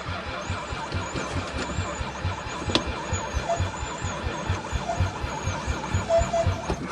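An old van engine cranks and fires on stale gasoline after years of sitting, with a rhythmic throbbing starter churn and a squealing tone running throughout at close range.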